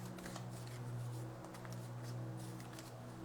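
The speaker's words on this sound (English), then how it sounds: "Let me keep shuffling." Tarot cards are shuffled softly and repeatedly, quiet riffling and rustling over a faint steady hum, close but low in volume.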